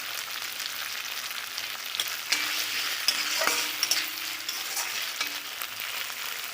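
Ground spice paste for koi fish curry stirring and sizzling in hot oil, a steady close frying hiss with occasional scrapes and soft stirring clinks throughout.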